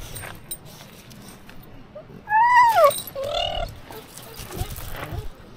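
A brief high-pitched whine, two short rising-falling cries from a dog in a car park, heard at moderate distance over faint background noise.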